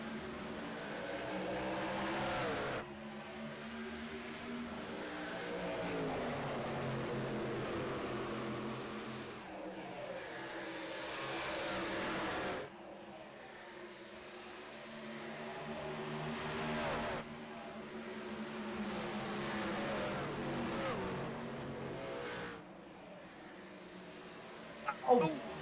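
Racing trucks from a 15-truck field roaring around Dover Motor Speedway in the iRacing video game, a steady droning engine wash with shifting pitch, running continuously beneath commentary talk.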